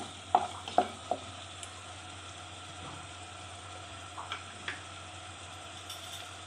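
Masala paste for kolambi bhaat (prawn rice) sautés in a pan as a faint, steady sizzle, broken early by a few soft clicks of a utensil against the pan.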